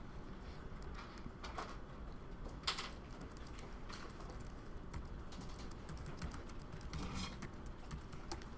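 Steady typing of code on a computer keyboard, with soft continuous key clicks and occasional louder taps, quiet and close with faint background hiss.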